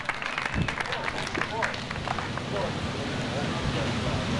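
A crowd applauds a first-time competitor at a bodybuilding and figure contest, a steady spread of clapping and cheering in a large hall while an announcer's voice carries over it.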